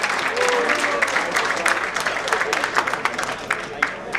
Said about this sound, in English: Please give a huge round of applause to yourself